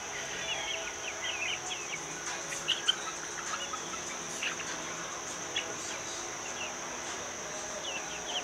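Chickens in a vegetable garden clucking softly amid a constant chorus of insects, with scattered pecking and rustling, fairly quiet and close.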